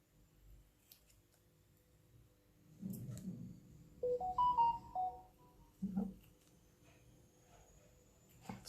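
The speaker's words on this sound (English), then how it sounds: "That's my phone getting messages." A mobile phone plays a short rising chime of several quick tonal notes as messages arrive, followed by a soft blip, set against a quiet room with faint handling noises.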